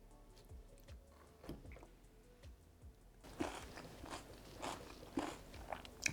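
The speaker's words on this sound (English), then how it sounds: "Can you hear the sound? It's so crunchy." Someone bites and chews sautéed vegetables from a chicken jalfrezi, producing soft, close crunching and chewing that grows busier and louder partway through.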